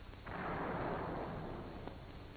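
A tank gun fires an APC M61 armor-piercing round with an M66 base-detonating fuse at pillbox loopholes, a single heavy blast that lands as a sustained roaring wash, loud and close, with no talk.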